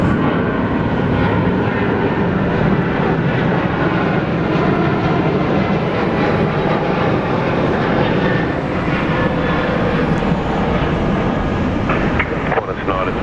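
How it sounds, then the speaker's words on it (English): A Qantas airliner roars down runway 34 left at Sydney International Airport on takeoff, a loud, steady broadband engine rumble filling the whole span without letup. "Qantas 9 to 26, runway 34 left, cleared for takeoff"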